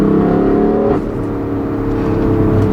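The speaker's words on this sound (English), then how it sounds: "So I get plenty of exhaust noise." BMW M3, a 2016 car with DCT gearbox, mid-pipe and tune, accelerating with a loud, steady exhaust drone that keeps up through the whole stretch and shifts in pitch about a second in.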